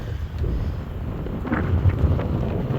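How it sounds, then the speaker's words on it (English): Steady wind buffets the microphone on a South Dakota hilltop, a continuous low roaring rumble with slight gusting swells, close and fairly loud, with no voices. "true to form for South Dakota, wind. Steady wind, so you have to deal with it"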